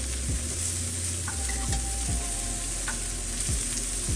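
Juicy homemade burgers fry on a grill with a dense, continuous sizzle and hiss, punctuated by occasional low soft ticks and pops, close and without talk.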